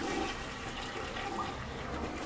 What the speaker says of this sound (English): Flush the toilet!